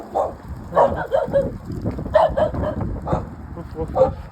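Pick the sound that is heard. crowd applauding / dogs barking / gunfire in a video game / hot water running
dogs barking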